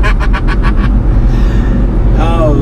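A 2018 Audi R8 V10 Spyder revs hard with a rapid series of cracking downshift blips, then a deep engine drone and a rising rev near the end, loud and close.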